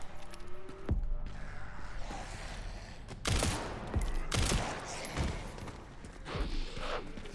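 Gunfire from the Resident Evil Requiem video game, with several heavy, booming shots spaced a second or so apart over a dense game soundscape.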